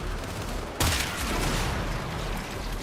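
A burst of video game gunfire in Destiny erupts suddenly after a quiet stretch, a sharp loud blast followed by a dense, rumbling wash of shots that gradually fades.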